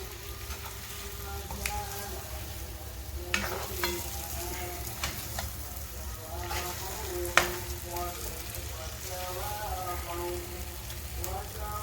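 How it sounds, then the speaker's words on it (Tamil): Eggs stirred and fried in masala for a Mughlai egg curry give a steady, close sizzle, broken now and then by sharp spoon scrapes and clinks against the pan. "இப்போ நாம் வந்துட்டு முட்டைகள் வந்துட்டு பெரட்டி விட்டுடலாம்"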